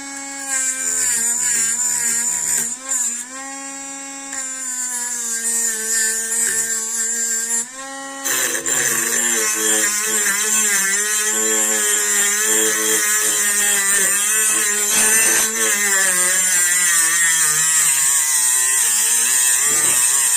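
A cordless mini drill (Dremel-style rotary tool) powered by an 18650 battery whines steadily at high pitch, its tone sagging and rising as the bit is pressed against work, loud and close with no talk.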